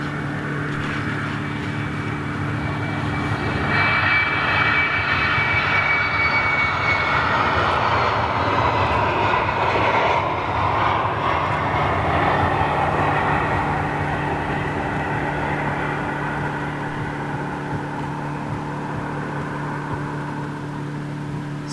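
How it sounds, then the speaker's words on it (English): An Embraer jet departs Schiphol, its engines a steady, loud roar that swells and then holds for a long takeoff run, with no talk over it. "Oh, little Embraer going out."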